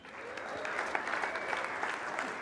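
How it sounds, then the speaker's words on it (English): An audience at a winter speaker series event claps in a steady, full round that rises slightly and carries on with no talking heard. "Please clap for them"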